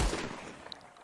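A gunshot goes off in Red Dead Redemption 2, one loud near blast at the onset that decays into a short tail, with a faint click afterward and no talk.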